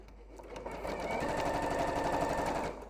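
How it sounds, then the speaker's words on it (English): A sewing machine stitches over black fabric and ribbon in one continuous close whirring run, fairly quiet, with a low hum underneath and no talk. "I'm just going to keep on sewing, like I said, over the black until I get to the next ribbon."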